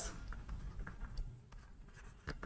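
Pen scratching across paper while handwriting notes, soft and close, with a steady rustling texture and small taps at a low level throughout.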